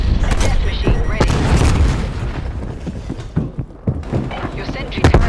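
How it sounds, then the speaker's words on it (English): Call of Duty: Cold War team deathmatch combat, with a sentry turret being destroyed amid loud booms, thuds and bursts of gunfire, and in-game voice announcements over the din. "Your sentry turret has been destroyed."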